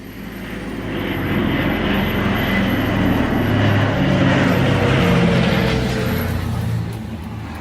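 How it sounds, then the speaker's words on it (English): A propeller aircraft drones overhead, swelling in loudness and holding steady before easing off, a deep throbbing engine rumble with no talking. "Overhead, an original aircraft from the time watches over"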